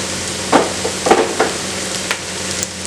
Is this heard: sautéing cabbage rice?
yes